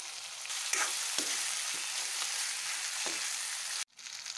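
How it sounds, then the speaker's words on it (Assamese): Mutton with cut chillies fries in a karahi with a steady, close sizzle, broken by a few soft scrapes of stirring before it cuts off abruptly near the end. "এইফালে মাংস ধুনীয়াকৈ ফ্ৰাই হৈ গৈছে"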